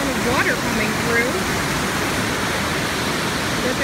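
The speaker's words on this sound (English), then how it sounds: "amazing amount of water going through the Dechutes River here" The Deschutes River in Oregon's Deschutes National Forest runs at flood height, surging right over a submerged waterfall. Its steady, loud, broadband roar fills the whole stretch, with a faint voice briefly audible over it.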